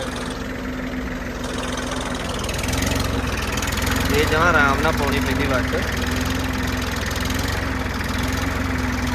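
A tractor engine chugs steadily throughout, loud and close, while someone speaks over it.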